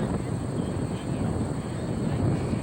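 Electric model airplane with an Astro 60 FAI motor and belt drive turning a 22-inch propeller at an electric airshow, giving a steady, continuous drone with a faint voice talking underneath.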